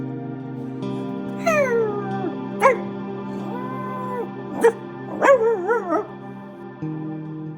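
A puppy barks loudly to warn of a thief on the roof at night: a few sharp yips and whiny, rising cries break out over a steady background tone.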